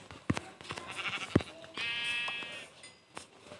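A sheep in Minecraft bleats a few times in short, close calls, with soft clicks and a brief tonal sound in between.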